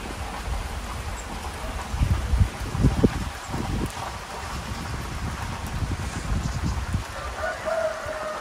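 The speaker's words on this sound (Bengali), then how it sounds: "পুরো শাঁ শাঁ করে হাওয়া দিচ্ছে আর পুরো মেঘ আর তেমন বৃষ্টি" Gusty wind and rain roar steadily around a car on a mountain road between Dhotrey and Pelling in Sikkim, with heavier bursts and low rumbles of wind buffeting the microphone.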